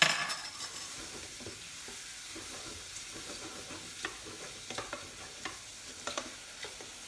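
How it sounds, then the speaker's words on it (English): Mushrooms fry in a pan with a steady soft sizzle, while a utensil stirs them in scattered scraping taps and a few sharper clicks against the pan. Close and fairly quiet, with no talk. "Keeping the mushrooms cooking off there."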